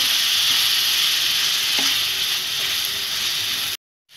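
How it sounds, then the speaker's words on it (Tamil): Beetroot poriyal stirred and sautéed in a pan, a steady close sizzle and hiss of frying with faint stirring scrapes, running continuously before cutting off abruptly near the end. "நல்லா கிளறிக்கங்க."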